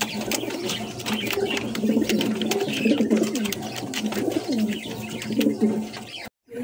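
Lahori pigeons kept in pairs cooing in a loft, repeated soft low coos layered from several birds, close and continuous, with occasional chirps and brief handling noise.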